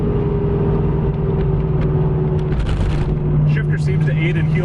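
A 1980s Camaro Iroc-Z engine idles roughly with a steady low drone and tonal hum that holds throughout, heard close-up and loud, with a voice talking over it.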